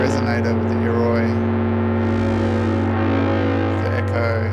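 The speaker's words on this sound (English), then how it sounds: "And then I can start to bring kind of in the resonator with the Iroi," Eurorack synth patch run through an Iroi resonator effect, giving a dense, distorted, continuous drone with a steady low hum, resonant ringing overtones and a brief brighter swell in the middle.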